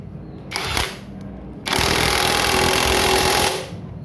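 A SUNS impact wrench tightening a bolt on a motorcycle, a short whirring rattle followed by a longer, louder hammering burst of nearly two seconds, close by with no talk.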